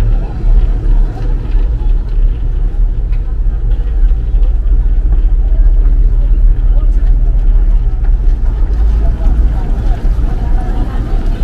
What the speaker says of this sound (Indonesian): Dan sebentar lagi kapal Akbar Amanda akan merapat dan bersandar guys ya